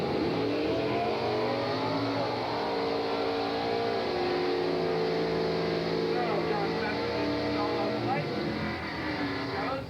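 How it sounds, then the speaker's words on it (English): Drag racing cars rev at the 1983 Englishtown Springnationals, a loud, sustained engine roar with rising and falling revving tones filling the whole stretch, heard close and steady. "Next pair of cars pulling up in the right lane."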